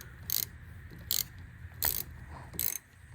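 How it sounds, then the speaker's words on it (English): A ratchet wrench tightens a grease fitting into a tie rod end on a 2000 Subaru Forester during a steering rack job, four short bursts of rapid clicking evenly spaced, close and clear with no talking. "Just want to thread it in nice. Use your wrench."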